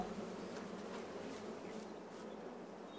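Honey bees buzz around an apiary, a soft continuous drone of many insects at a distance, faint and steady with no voices.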